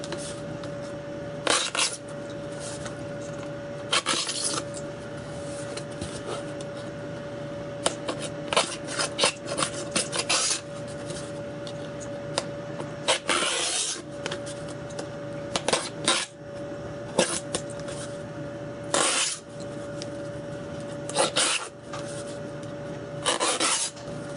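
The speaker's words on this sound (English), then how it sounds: "let's put a scratch in it" Repeated rasping scratches on a part of a Wimshurst machine under construction: short, close bursts of dry scraping, separated by quiet pauses, with no talking.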